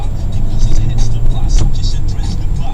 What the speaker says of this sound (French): Oh, quelle accélération.